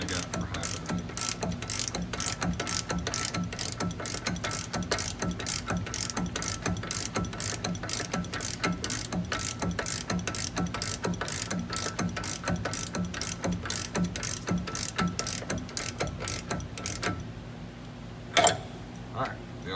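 A ratchet socket cranks down the caging bolt on a truck's brake chamber, clicking in a steady, fast rhythm close by throughout, ending with a few separate clicks.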